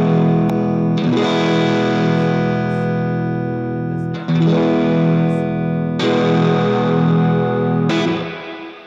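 Electric guitar through an AMP1 amplifier, a distorted, effects-laden tone with sustained chords that swell and are re-struck several times, loud and close, with no talking over it.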